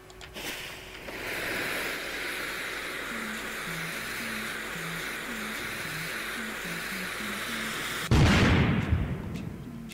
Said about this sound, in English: What a silly explosion.